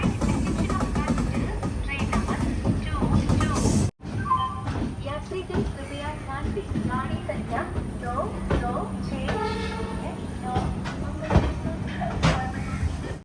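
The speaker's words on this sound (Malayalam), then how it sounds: "നീലേശ്വരത്ത് നിന്നും 78 കിലോമീറ്റർ യാത്ര ചെയ്ത ട്രെയിൻ ഇതാ മംഗളൂരു സെൻട്രൽ റെയിൽവേ സ്റ്റേഷനിലേക്ക് എത്തിക്കൊണ്ടിരിക്കുകയാണ്." An express train rolls into Mangaluru Central railway station after a 78-kilometre run from Nileshwaram, a rumbling clatter of wheels and cars with squeals, clanks and a brief cut, while a voice talks over it.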